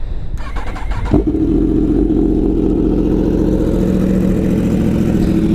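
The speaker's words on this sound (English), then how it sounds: "Got my R1 here in the backyard of this house" A Yamaha R1 sport motorcycle cold-starts in a backyard: a brief cranking whirr, then the engine catches around one second in and settles into a loud, steady, throaty idle close by.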